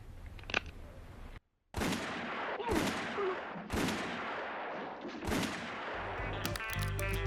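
Gunshots from a western film scene in The Good, the Bad and the Ugly, several loud broadband cracks spaced about a second apart, with a brief silence early on and music rising near the end.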